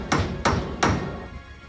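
In a film about the sinking of the Russian nuclear submarine Kursk, someone bangs on the submarine's metal hull: three evenly spaced, sharp, ringing metallic blows, close and loud, each decaying quickly.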